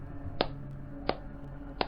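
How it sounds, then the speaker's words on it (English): Hands clapping on a film set, heard as three sharp, isolated claps spaced evenly about seven tenths of a second apart. The claps are moderately close and stand out against a quiet, humming background with no talk. "the set was interrupted by the sound of clapping somewhere"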